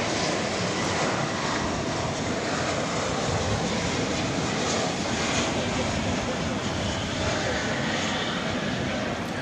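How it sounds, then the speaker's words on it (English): A Boeing 777 jet arriving at night at Dallas Fort Worth Airport from London Heathrow produces a constant, loud, broad engine roar that holds steady throughout without letup. "we've got another 777. This is arriving from London Heathrow"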